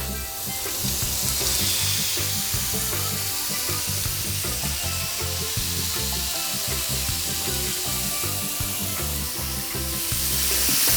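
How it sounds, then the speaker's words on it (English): Steady, loud sizzling of chicken kebab skewers frying in a hot pan, continuous crackle and hiss throughout with no talking. "It should make this sizzling noise."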